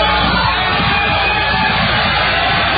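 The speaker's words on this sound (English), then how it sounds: "They're all applauding now because Billy has finally decided to leave the stage. That's what you're hearing here." A large radio-show studio crowd roars and applauds as a comedian leaves the stage, a dense, loud, continuous wash of cheering, yelling and clapping close up with no gaps.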